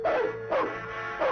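Cartoon dog Krypto from an animated Superboy series gives three short, loud yips or barks spaced across the moment, with no talking over them.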